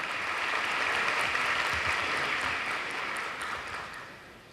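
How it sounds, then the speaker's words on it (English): An audience at a school district career day gives a big round of applause for a support services department, a dense wash of clapping from a crowd that holds steady, then gradually fades. "We give our support services department a big round of applause."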